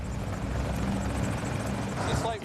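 A helicopter engine runs in a stationary test on a ship, producing a loud, continuous rotor throb and engine rumble, with a rising whistle near the end and voices faintly underneath.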